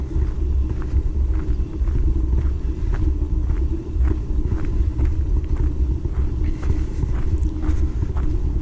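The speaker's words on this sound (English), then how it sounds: "Cars zinging by." Cars drive past on a road outdoors, a steady low rumble of traffic with light wind buffeting and faint footsteps, constant and fairly close, no talking.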